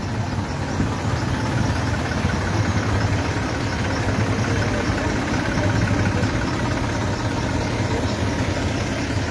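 Diesel tractors idle in a queue for fuel, giving a steady, loud, low engine rumble with constant vibration throughout and no voices.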